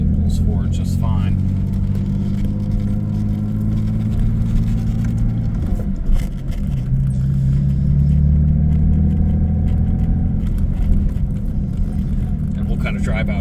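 A 1985 Jaguar XJS pulls forward and drives off, its engine a steady mid-pitched drone that swells and shifts as it accelerates, with someone talking over it.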